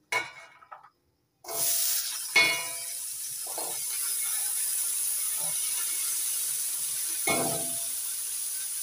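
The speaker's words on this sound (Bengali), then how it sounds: "এখন আমি গাজর আর বিনস ভেজে নেব।" Carrots and beans fry in oil with a steady, close sizzle and hiss, with a few sharp clinks and scrapes of stirring early on.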